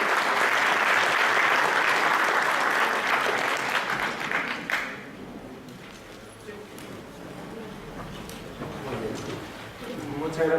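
Audience applause at a public-procurement conference, a full, steady burst of clapping for about five seconds that thins out as a voice begins speaking over the last scattered claps.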